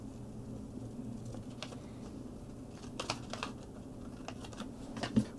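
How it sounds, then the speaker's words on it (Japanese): Copy paper being cut by hand for a Casio G-Shock GA-2110SU-3A repair, a string of short, crisp snips and clicks at close range over a soft background hiss, with no talking. "紙を切り取ります。"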